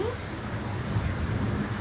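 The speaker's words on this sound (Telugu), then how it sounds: "ఇప్పుడు మళ్ళీ full rain and Thunders and rain కూడా బాగా పడుతుంది" Heavy rain falling in Vijayawada during a thunderstorm, a dense continuous hiss with a low rumbling undertone, steady and fairly loud throughout the short stretch.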